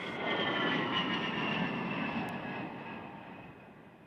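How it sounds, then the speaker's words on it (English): The roar of an F-16 fighter jet passing overhead, loud at first and then gradually fading as it moves away. "The penetrating sound of an F-16 fighter jet overhead should be the enemy's worst fear."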